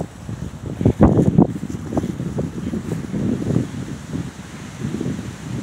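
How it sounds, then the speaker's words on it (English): Gusty wind blows outdoors at an American Ninja Warrior All-Star skills competition, a steady low roar of buffeting against the microphone with a stronger surge early on, then continuous rustling noise. "Wind is picking up."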